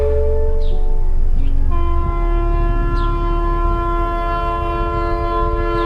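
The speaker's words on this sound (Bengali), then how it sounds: "ট্রেনের শব্দে কান পাতা যায় না।" A train approaches loudly over an overbridge, with a long sustained horn blast over a heavy rolling rumble that stays close and dominant throughout.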